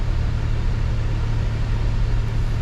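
A Range Rover crawling along an off-road course at the Goodwood Festival of Speed, giving a steady, loud low engine rumble that holds constant throughout with no voices.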